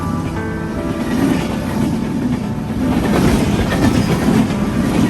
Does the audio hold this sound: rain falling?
no